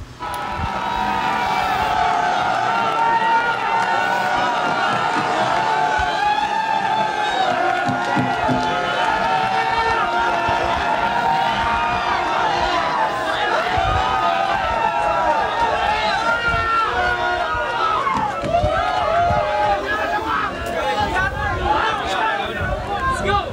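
A large live crowd at a Filipino rap battle event fills the space with continuous loud cheering and babble. Voices shout and talk throughout.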